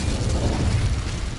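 A roaring fiery blast from an Incendio spell in Hogwarts Legacy, a sustained loud rumbling whoosh lasting just over a second without pause.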